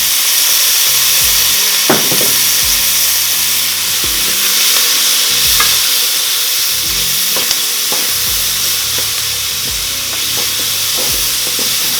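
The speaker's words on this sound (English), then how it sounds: "So I'm going to let my onions cook" Onions frying in olive oil in a pan for spicy chicken fajita soup: a steady, loud sizzle throughout, with occasional soft clicks and scrapes of stirring and no talking.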